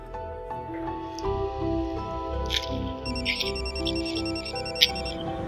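A mobile phone rings with a repeating electronic ringtone over background music and room noise, its bright chirping tones recurring steadily through the scene.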